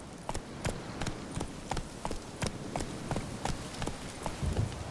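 Roach the horse gallops in The Witcher 3, a steady rhythmic clip-clop of hooves at a running pace, moderately close over a soft background.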